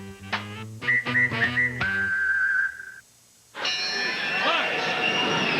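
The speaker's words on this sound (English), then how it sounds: "All you have to do is whistle." A PC Richard & Son appliance store advert whistle: several short bright tooting notes and then a long held tone, followed after a brief silence by loud, busy noise.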